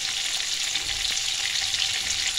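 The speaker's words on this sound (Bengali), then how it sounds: "এবার মাছগুলো আমি দিয়ে দিচ্ছি একে একে কড়ার মধ্যে" Fish pieces frying in hot oil in a wok, a dense continuous sizzle and crackle close by, steady and loud with no voices.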